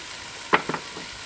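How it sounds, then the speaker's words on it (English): Garlic fries in a pan during outdoor camp cooking of a Thai Panang curry, a soft steady sizzle broken by two or three quick close clatters. "Okay, so to this now I'm going to add garlic."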